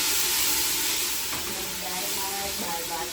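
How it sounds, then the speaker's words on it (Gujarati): Tempering (vaghar) for chole sizzles in hot oil as a soft, steady hiss, fairly faint and continuous, with light background kitchen noise. "અત્યારે આપણે છોલેનો વઘાર"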